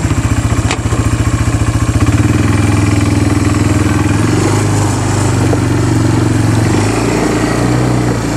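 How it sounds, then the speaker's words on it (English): A Yamaha Bruin 250 ATV engine with plugged carburetor jets idles high and steady, a loud, close, continuous putter with rapid firing pulses and faint mechanical clatter throughout. "ain't idle so damn high, pulling gears like clunk"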